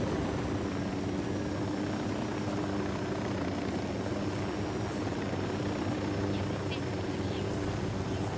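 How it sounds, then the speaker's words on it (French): Enemy patrol helicopter in Ghost Recon Wildlands, a steady rotor and engine drone holding at constant loudness throughout, with a continuous mid-distance hum and no talk over it. "Hélico de l'Unidad en patrouille, attention."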